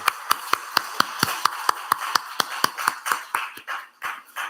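A church congregation claps during a Sunday worship service. Sharp, evenly spaced claps keep a steady beat, then loosen into a denser, less regular patter toward the end.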